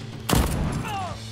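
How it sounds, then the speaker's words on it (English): A grenade goes off in the Deathloop shooter game: one sharp, loud blast with a booming low tail that rings out for about a second, followed by a faint rising whistle. "That's a grenade."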